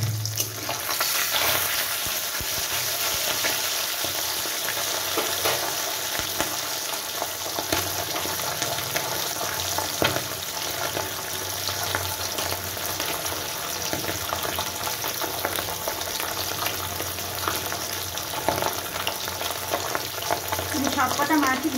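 Pabda fish, salted and coated in turmeric, fry in a pan with a loud, continuous close-up sizzle and spatter lasting the whole stretch, plus occasional light handling clatter.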